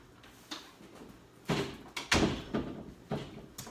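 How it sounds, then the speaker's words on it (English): A laundry room door is pushed shut at home, with several close knocks and thuds from the door and its frame, the loudest landing around the middle and fainter bumps following. "I guess I could close the door."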